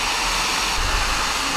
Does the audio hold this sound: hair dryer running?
yes